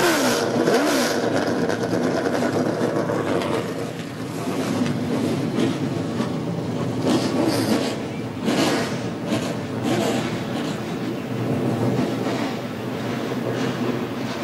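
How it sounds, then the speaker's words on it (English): Race car engines of 400-plus horsepower fire up together at Daytona before a 150-lap short-track race, a dense, steady roar with revving swells and rumble filling the whole stretch. "The sound of 400 plus horsepower firing up here at Daytona."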